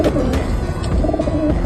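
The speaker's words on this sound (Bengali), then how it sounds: "এই যে এটা আমাদের কাজ করা জেনারেশনেরই একটা কবুতর" Pigeons coo in a loft of senior racing stock, a steady low cooing from several birds close by, continuous and fairly loud with no talk.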